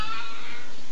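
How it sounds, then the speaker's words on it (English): A house cat gives one short, loud meow close by, with no one talking over it. "That was the cat."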